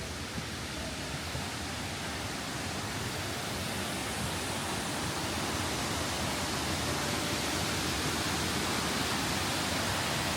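A waterfall at Sapa rushes as a dense, steady broadband roar that stays constant and fairly distant throughout, with no voices.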